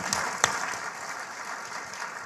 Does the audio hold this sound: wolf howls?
no